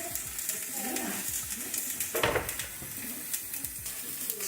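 Rice frying in olive oil on a hot grill, a steady close sizzle with scraping stirring strokes and a louder clatter midway, no talking.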